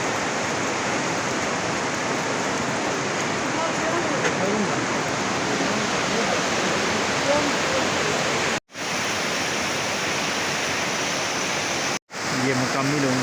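Spring water pours out of a mountainside beside a dirt track in a Neelum Valley village, a loud, steady rushing roar close by that fills the whole stretch, broken by two brief cuts.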